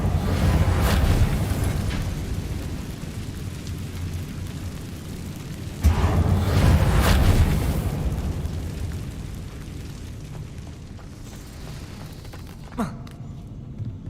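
Reparo repair spell cast in Hogwarts Legacy amid booming magical surges, two loud rushing swells followed by a fading hum and a small pop near the end.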